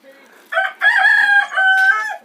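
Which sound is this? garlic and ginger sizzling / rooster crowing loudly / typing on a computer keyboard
rooster crowing loudly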